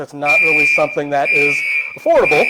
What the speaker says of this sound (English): that is our fire alarm going off